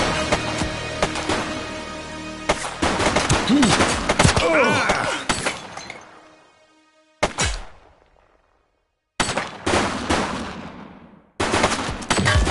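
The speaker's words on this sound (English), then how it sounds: "Shots fired!" Bursts of gunfire from a police shootout in the open-world crime game The Precinct, loud sharp volleys and rapid shots with echoing tails, then silence broken by a few more abrupt reports.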